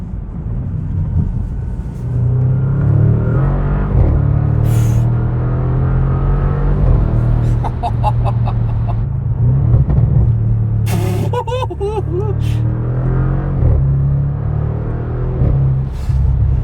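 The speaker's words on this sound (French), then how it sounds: "C'est beaucoup trop violent comme voiture les gars." A modified Audi RS7 engine rumbles and revs steadily up close, with a few brief hisses and clunks over the continuous low drone.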